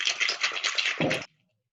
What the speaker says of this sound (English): then we're going to give a good shake